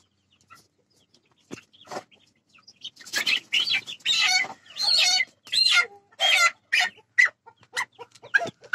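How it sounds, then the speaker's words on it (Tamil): Native country chickens in a village cluck in a quick run of short, close calls that grow denser and louder, with a few scattered calls and scuffles before them. "இது நாட்டுக்கோழியா? இது நாட்டுக்கோழி."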